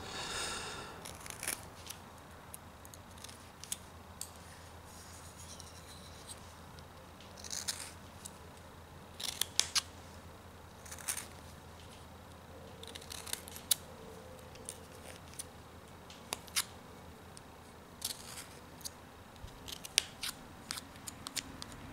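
Small knife carving ears into a wooden fox, giving a series of short, dry scraping and snicking cuts at an uneven pace, close up and fairly quiet, with no talking.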